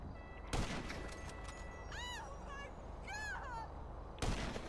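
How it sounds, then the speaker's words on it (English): Two sharp gunshots in GTA V, fired through a bush, open and close the stretch; between them come several rising and falling tonal chirps, like meows, over a steady game background. "I'm shooting through a bush."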